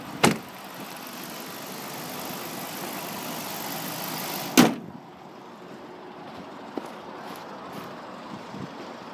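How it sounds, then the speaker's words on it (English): The power trunk lid of a 2011 Dodge Challenger R/T shuts with a sharp thud midway, after a quieter click at the start, over a steady background hum and a faint tick afterward. "I'm just going to close it up so you can see how it looks buttoned up"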